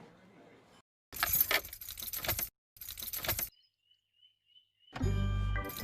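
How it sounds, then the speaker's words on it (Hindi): A car key is turned in the ignition, with close metallic jangling in bursts separated by silent gaps, a faint thin tone, and then a louder low rumble at the end as the car tries to respond. "मानवी, तुम चाबी खुद की तरफ घुमा रही हो या खुद से दूर?"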